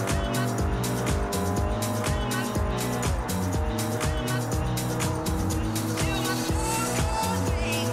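A Toyota Yaris racing in Forza Horizon 2, its engine droning steadily with rhythmic gear-shift pulses and tire squeal over music-like game audio, loud and continuous throughout.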